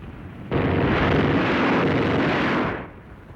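Gunfire and explosions from two squads of a WWII German platoon firing together, heard as a loud, sustained roaring burst that starts abruptly and holds for about two seconds before fading, with no speech.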